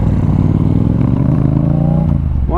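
A motorcycle engine runs loud and close while riding, a steady rough drone with harmonic pitch that drops slightly and then rises sharply as the rider revs at the end.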